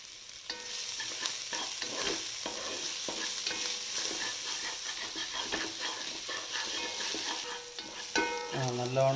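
Chicken roast masala with coriander, mint and curry leaves being stirred and fried in a pan: a steady close sizzle with scraping spoon strokes throughout, no talk.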